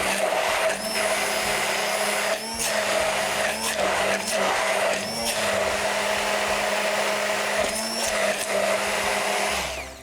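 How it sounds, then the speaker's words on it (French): A countertop blender whirs continuously while mixing a grilled sardine sauce, a loud close motor drone with brief pitch dips where the load shifts. "je vais juste mixer encore plus parce que je veux que ça soit un petit peu plus liquide"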